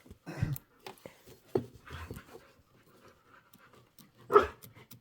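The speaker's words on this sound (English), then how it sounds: "Because you might have barking dogs." A dog pants nearby indoors, quick breathy huffs in uneven bursts separated by quiet gaps, with one louder burst near the end.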